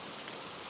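Steady rain falls on surfaces in a dark, wet town street, a dense, even hiss of drops with no voices or other sounds over it.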